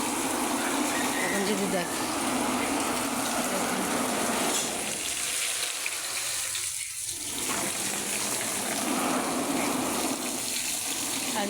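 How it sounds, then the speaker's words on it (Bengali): Water spraying and splashing onto a hot asbestos house roof during a heatwave, a steady broadband hiss with a brief dip midway, while a person talks over it. "এই যে ঘরের উপরে জল মারা হচ্ছে আমাদের"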